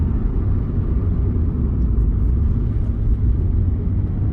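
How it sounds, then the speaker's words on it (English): A 2023 Mazda MX-5 GT RS engine drones in a close, steady low rumble, sounding loud and throaty with no voices. "See if you can hear this little engine sing."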